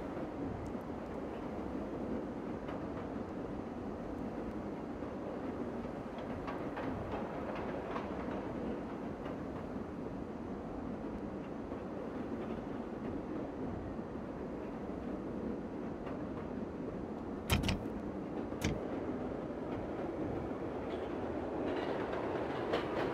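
A Chicago Brown Line train rolls along in the Railfan game on PS3, with a constant rumble and clatter of rail cars, a couple of sharp clanks near the end, and no talking.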